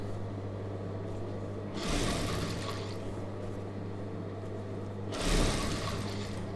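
A sewing machine sews a folded quarter-inch strip along a star-neck chudidhar neckline, its motor humming steadily throughout and rising into two louder, busier stretches.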